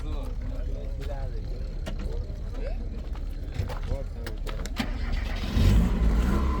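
A Daewoo Nexia car engine at a car market cranks and turns over, then settles into a low idle with a rise in rumble near the end; people talk over it.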